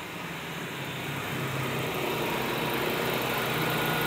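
A car engine idles smoothly in its engine bay, a steady, even, low hum with broadband noise that runs unbroken throughout at a moderate distance, with no voices.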